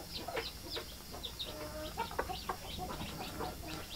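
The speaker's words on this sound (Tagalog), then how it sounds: "Ito ay mga Zampin ko ng mga native chicken." Native Zampen-breed chickens cluck repeatedly at close range, with short, overlapping calls from several birds over a steady farmyard background.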